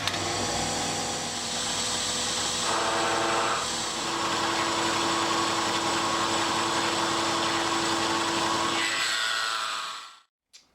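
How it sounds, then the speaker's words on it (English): A milling machine facing off a motorcycle clip-on clamp part with an end mill, a steady loud whirring cut with shifting tone that runs near-continuously for about nine seconds, then stops abruptly. "finish facing it off with the end mill. I was really pushing the limits of my milling machine here."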